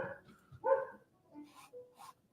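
A dog barks a few times in the background, faint and intermittent, heard in a quiet room over a short stretch.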